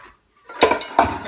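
A green ceramic bowl is handled on a kitchen counter during homemade pizza dough prep, giving two close, distinct clunks and clinks after a brief quiet moment, with no talking.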